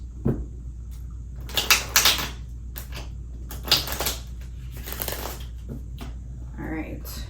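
A deck of tarot cards being shuffled in a few quick, papery riffling bursts, close by in a quiet room, with pauses between them.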